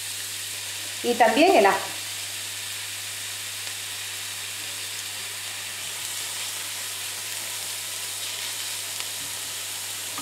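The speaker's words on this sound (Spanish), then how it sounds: "Lo vamos a sofreír a fuego medio hasta que esté tierno" Onion and garlic fry in hot oil over medium heat, a soft even hiss running throughout, with a brief spoken phrase near the start.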